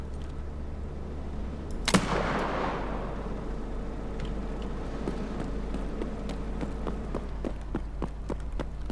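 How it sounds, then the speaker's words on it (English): A single sharp gunshot cracks out in the video game Escape from Tarkov, its echoing tail fading over a steady low hum, followed by faint scattered clicks and distant pops. "We didn't shoot it high enough, so he's shooting at us"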